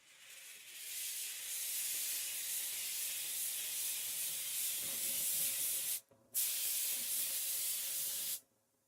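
A spray gun applying a flake clear coat at reduced pressure gives a steady, close hiss in two bursts, the first long and the second after a brief pause, then stops.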